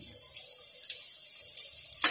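A kitchen tap runs while water is drained off chicken pieces for tinola, making a steady, thin hiss of flowing water with small splashy surges and a louder gush right at the end.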